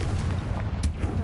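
A Confringo fire spell blasts in Hogwarts Legacy, a heavy booming burst with rumbling low-end impact, loud and close, trailing into crackling game ambience.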